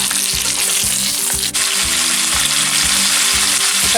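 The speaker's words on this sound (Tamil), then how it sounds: "சிக்கன் அதோட ஓன் ஜூஸில் கொஞ்சம் நேரம் அதையும் நாங்கள் இதை வதங்குறேன்னு சொல்லுவோம்" Marinated curry chicken sautés in its own juices in a pan, a steady close sizzle overlaid with regular scraping stirs that repeat in a loose rhythm, no voices.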